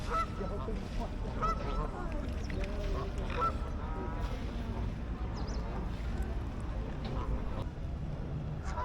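Ducks and geese honk and quack busily at close range while being fed, over a constant outdoor rumble, no voices.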